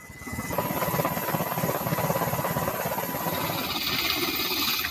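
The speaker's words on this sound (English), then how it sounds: "soon board an HS-60 Seahawk helicopter and leave Nimitz." A Seahawk military helicopter drones steadily and loudly throughout, its rotor chopping in a fast, even pulse over a dense engine roar with no voices.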